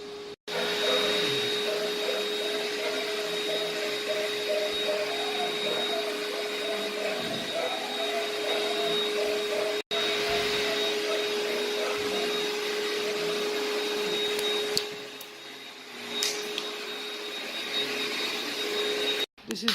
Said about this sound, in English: This is how the stairs came when you vacuum properly.